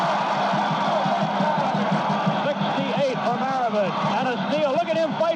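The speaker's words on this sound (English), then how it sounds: "the crowd is going wild here at the Superdome" An arena crowd at the Superdome roars during a basketball game, a loud sustained cheer over an excited announcer's play-by-play, with whistles and shouts cutting through.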